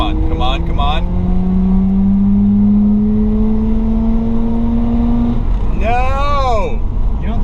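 Mazda RX-8 rotary engine pulling hard under acceleration, heard from inside the car as a loud rising whine that climbs steadily for several seconds before cutting off, with voices talking around it.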